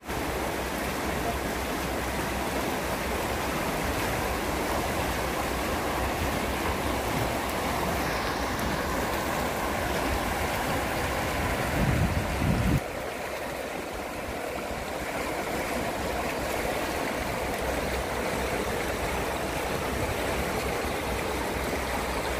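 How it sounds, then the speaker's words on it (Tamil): Mahaweli river branch rushing under Yaka bridge at Peradeniya, a steady loud broadband roar of flowing water that continues unbroken throughout, with no talk over it. "சரியா இது பாலத்துக்கு கீழே அப்படியே ஓடிக்கொண்டிருக்கு."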